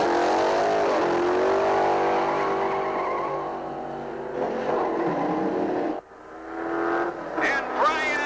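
A Hemi-powered Willys coupe in gray primer at a drag race, its engine roaring steadily with pitch sweeps as it accelerates, under commentary from an announcer.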